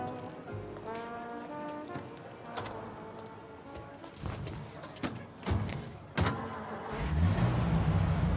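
A car driving in the video game Mafia Definitive Edition, with engine hum and mechanical clunks under dialogue between characters, the engine swelling louder and rumbling strongly near the end.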